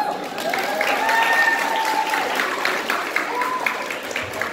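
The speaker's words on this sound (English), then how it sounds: "One more applause for Father of Ishita here." An audience at a family celebration with a cake cutting bursts into sustained applause, clapping swelling then easing slightly, with faint voices and a whistle-like tone rising over the crowd.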